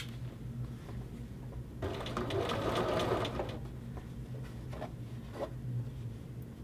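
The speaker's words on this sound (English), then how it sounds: "You are basically sewing from pin to pin to pin." Sewing machine stitching the neck binding of a hoodie, running in a steady close-up whir that swells in the middle and then eases to a slower, lighter stitching.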